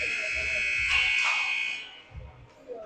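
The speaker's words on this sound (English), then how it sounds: "Buzzer sounds." A loud, sustained electronic buzzer blares at a minor-league hockey game, Raleigh Raptors versus Pittsburgh Arctic Foxes, lasting about two seconds before cutting off, with faint crowd murmur underneath.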